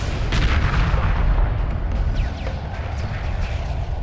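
Space warships in Homeworld Remastered firing weapons, a heavy rumbling barrage of booming shots with bright crackling impacts, loud and continuous.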